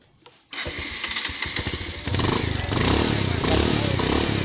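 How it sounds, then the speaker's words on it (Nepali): A motorcycle fitted with an alcohol-detecting ignition lock cranks with a few rapid chugging bursts, then catches and settles into a steady, close idle that grows slightly louder. "बाइक स्टार्ट हुन्छ।"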